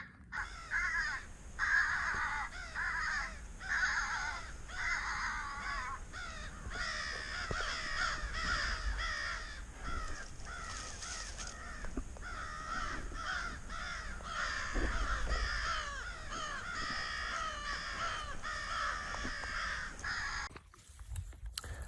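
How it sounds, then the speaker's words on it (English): A flock of crows caws steadily and loudly over a hunting field, harsh repeated calls overlapping from several birds nearby throughout, with no talking. "that was a gang of crows, dude"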